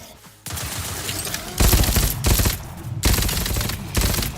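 Loud submachine gun fire in a video game, coming in several sharp sustained bursts separated by brief pauses.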